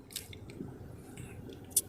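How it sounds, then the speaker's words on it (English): A drink is sipped through a paper straw, giving soft wet squishing and slurping sounds, close and quiet, with a brief sharp squeak at the end and no talking. "after I take a sip"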